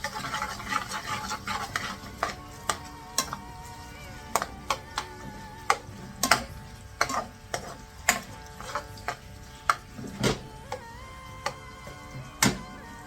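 Onions and chillies are stirred in a pan, giving sharp, irregular clicks and scrapes from the utensil against the pan. The sounds are close but fairly quiet and come alone, without talk.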